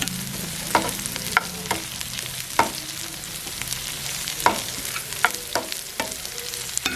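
Onions and finely chopped chillies sauté in a pan with a low, steady sizzle, punctuated by irregular spatula knocks and scrapes every second or so. No voices are heard.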